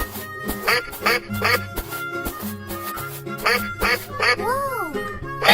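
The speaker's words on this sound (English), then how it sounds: "duck," A cartoon duck in a 3D animated children's cartoon quacks loudly and repeatedly in a quick, bouncy rhythm, close up, followed by a rising and falling whistle-like tone near the end.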